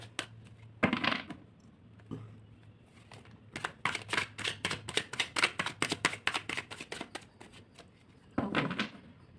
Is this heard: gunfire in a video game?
no